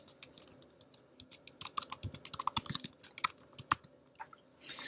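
Typing a server name on a computer keyboard, a quick run of crisp key clicks in uneven bursts, fairly close and alone with no talk.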